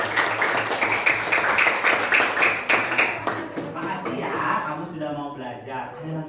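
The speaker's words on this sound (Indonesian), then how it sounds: "tepuk tangan untuk ke 4 orang pemain kita." A classroom of students claps for four fellow players during a social-emotional learning activity, a burst of brisk clapping that fades after a few seconds as voices and chatter take over.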